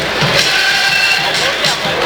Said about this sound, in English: Pretty good crowd.